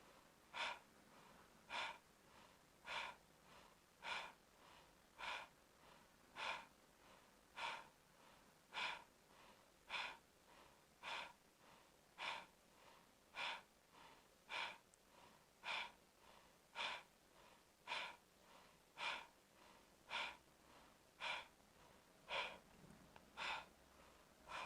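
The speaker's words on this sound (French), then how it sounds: "On accélère la respiration et les mouvements du ventre doivent être toujours continus." Rapid, forceful yoga breathing driven by the belly, with about twenty-two sharp, evenly spaced exhalations in steady rhythm, close and fairly loud with no talking.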